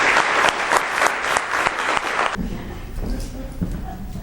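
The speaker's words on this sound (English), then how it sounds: "Big round of applause." An audience applauds a speaker at a talk, dense close clapping for about two seconds before it cuts to quieter room sound with scattered faint claps and a voice beginning to speak.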